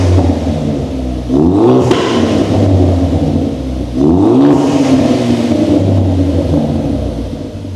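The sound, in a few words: Ford Focus ST engine warming up with loud exhaust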